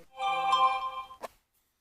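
An Android phone gives a bright electronic chime as it starts charging on a Boost Auto GM wireless charging pad, a sustained tonal ring ending in a short click-like blip, close and clean with no talk.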